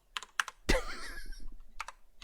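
Someone types on a computer keyboard, with scattered clicky keystrokes in short bursts around a sharper clack, fairly close and quiet, with no talking.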